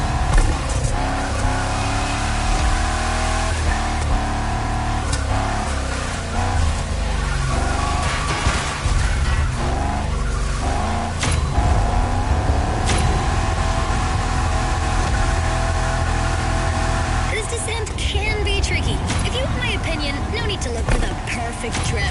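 Racing car in The Crew video game, drifting and accelerating with a loud continuous engine roar, revs rising and falling, tire squeal through the turns, and a voice talking over it throughout.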